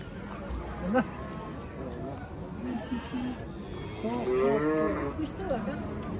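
Cattle moo repeatedly, deep drawn-out calls rising over a busy crowd of people talking nearby.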